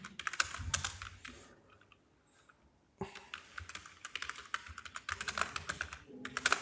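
Typing lines on a computer keyboard: rapid, close clicking keystrokes in dense bursts, a pause of about two seconds, then another long run of typing with no talk.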